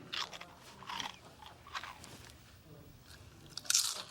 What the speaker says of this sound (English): There's a crunching sound coming from under your bed.